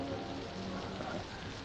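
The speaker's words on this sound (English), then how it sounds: "Oh, it's raining." Rain falling outside in a 1954 film, a soft continuous hiss of steady rainfall with no clear voices over it.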